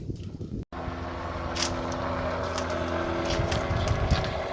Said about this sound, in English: You probably can hear the pump working right now